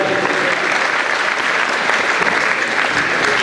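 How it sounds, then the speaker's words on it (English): A high school assembly audience bursts into steady, dense applause, a loud sustained wash of clapping from a large crowd filling the room for the full stretch. "Let's give Roger another round of applause"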